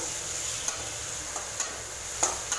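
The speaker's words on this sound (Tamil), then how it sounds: "வெங்காயத்தை நல்லா வதக்கி விடுங்க." Chopped small onions sizzle steadily in hot oil in a pan, with a few brief scrapes and clinks as a spoon stirs them, close and alone with no talking.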